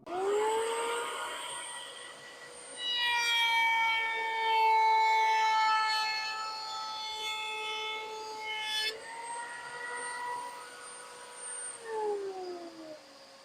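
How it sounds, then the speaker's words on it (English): A router fitted with a worn chamfer bit cuts the edge of a walnut piece, a loud high-pitched whine that rises as the motor spins up, holds while cutting, then drops in pitch as it winds down. "I've just got a simple chamfer bit, nice piece of walnut."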